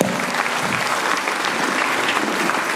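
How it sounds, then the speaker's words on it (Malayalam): An audience bursts into steady, energetic applause during a speech by Dileep, dense overlapping claps from a large crowd, loud and continuous with no talking. "ഇവർക്ക് നമ്മൾ 2 കൈ നീട്ടി ഒരു കയ്യടി കൊടുത്തേ പറ്റും"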